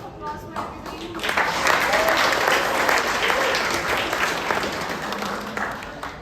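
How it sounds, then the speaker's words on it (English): Applause from a tech conference audience at a Go programming talk builds quickly after a second and stays dense and even, with a few voices faintly mixed in. "Another round of applause for everybody"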